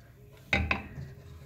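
A pressure cooker being opened after cooking beef trotters, two quick metallic clanks of the lid and pot close by, followed by a faint hiss.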